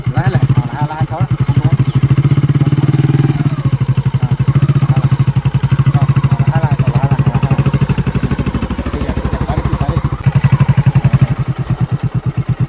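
A motorcycle engine runs with a rapid, steady thumping rhythm close by while a learner shifts gear, with several voices talking loudly over it throughout.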